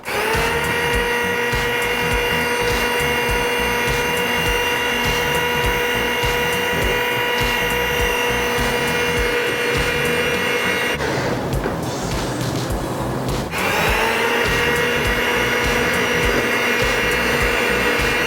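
An electric hand mixer whips egg whites for a Taiwanese castella cake, a steady loud whirring drone with a bright motor whine that dips and shifts briefly near the end before running on evenly.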